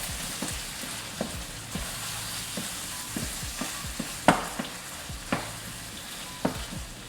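Chorizo frying in a pan gives a soft, steady sizzle, broken by a series of light scrapes and taps as it is stirred, one louder clack near the middle.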